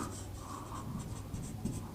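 Chalk or marker writing on a board during a maths lecture, soft scratchy strokes in short repeated bursts, close and fairly quiet over faint room noise.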